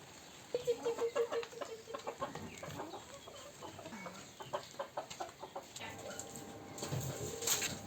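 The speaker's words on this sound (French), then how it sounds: "j'ai un peu toutes les gammes de poules à la maison, mais elles sont magnifiques comme tous mes petits poules." Several backyard hens clucking at home, a run of short rhythmic clucks near the start followed by scattered softer clucking and murmuring, fairly close, with outdoor ambience and no talk.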